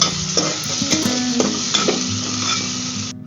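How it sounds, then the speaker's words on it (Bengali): Chopped onions and garlic paste stir-frying in a pan for a fish-head and papaya dish, with a loud, continuous sizzle and repeated close scraping strokes of a spatula. No one speaks. "আস্তে আস্তে নেড়ে চেড়ে দিতে হবে যেন ভালোভাবে পেঁয়াজগুলো ভাজা হয়"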